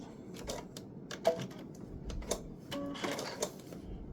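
A sewing machine stitches quilt blocks together in a soft, quiet run of clicking, ticking mechanism sounds with irregular sharper taps, close but low in level.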